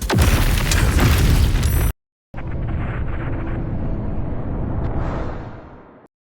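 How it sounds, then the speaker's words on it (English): Summoned spiders exploding in Baldur's Gate 3, a loud roaring blast that cuts off abruptly, then a second rumbling burst that sustains and slowly fades out, with no talk. "summons spiders that explode on Will's dad"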